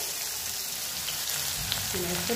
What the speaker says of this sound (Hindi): कढ़ाई में तेल हो गया गरम उसमें डाल देंगे थोड़ा सा जीरा और डाल देंगे प्याज को